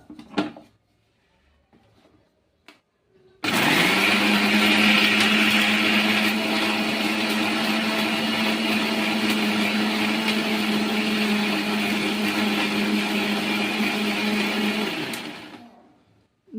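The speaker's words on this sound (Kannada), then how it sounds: "ಮಿಕ್ಸರ್ ಮಾಡ್ಲತ್ತೆ ನೋಡ್ರಿ." A kitchen mixer grinder crushing pepper, cloves, cinnamon, cumin and a bay leaf, switched on after a few light handling clicks, then a loud, steady whirring grind for about twelve seconds before it cuts off.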